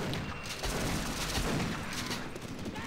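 Automated turrets open fire in a Half-Life co-op session, a dense, continuous rattle of rapid gunfire that fills the whole stretch at steady loudness with no pauses.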